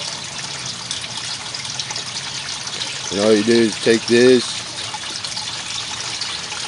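Water runs steadily from a tap while a swirl filter is rinsed, a constant splashing trickle that continues under a short stretch of a man's speech in the middle.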